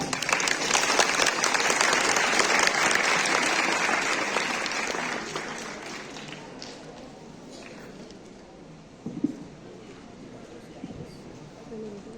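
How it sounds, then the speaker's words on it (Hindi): A school audience at a declamation competition applauds loudly, a dense burst of clapping that gradually thins and fades over several seconds, with faint voices and a brief thump near the end. "जोरदार तालियां हो जाए।"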